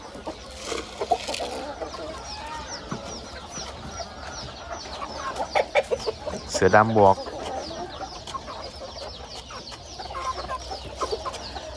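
Young Thai fighting roosters clucking and squawking nearby in irregular bursts, with one louder, drawn-out call partway through, while someone talks over them.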